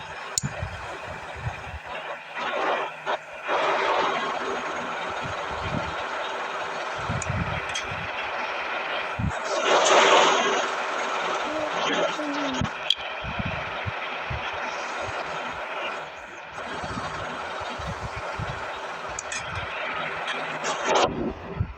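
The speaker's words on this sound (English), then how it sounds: "We have a helicopter here." A helicopter's steady, loud engine roar drones throughout, swelling briefly midway, with occasional thumps and rustles nearby.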